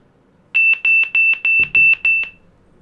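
Bluetooth earphones play a power-on tone after a long press of the plus button: six short, evenly spaced electronic beeps at one steady high pitch, close and clear, with a faint soft thump partway through.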